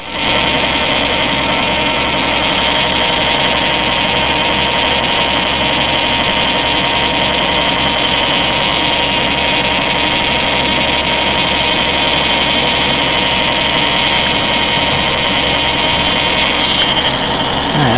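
A small motor-driven rotor spins steadily in a dish of ferrofluid, giving a loud, constant whirring hum with a high whine that holds unchanged throughout.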